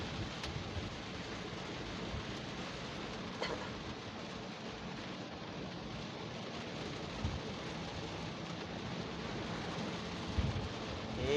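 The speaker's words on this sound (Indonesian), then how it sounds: "masih diselumuti dengan hujan yang cukup deras ya teman-teman" Heavy rain pours down in Tanjung Uban, a dense, continuous broadband roar with a low rumbling undertone and occasional faint knocks, steady and moderately quiet throughout.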